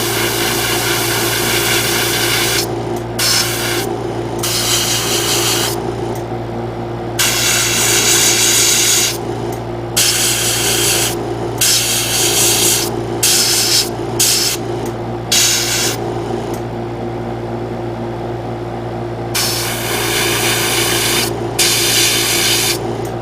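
An airbrush or spray can hisses in repeated bursts while parts of a 1/72 Bandai Mailes Kenbu model kit are painted. The bursts sit over a steady compressor hum, with short pauses between passes and no talking.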